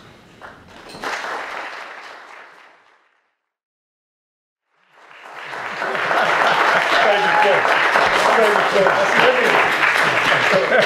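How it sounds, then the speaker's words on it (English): Studio audience applause on a sports entertainment talk show: a brief burst of clapping fades out, a short silence follows, then a loud, dense round of applause with cheering voices swells up and holds steady. "this has to be the best applause we've ever had"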